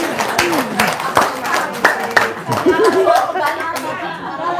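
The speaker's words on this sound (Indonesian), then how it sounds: "Tepuk tangan nih dong." Several hands clap in quick bursts close by while people laugh and chatter.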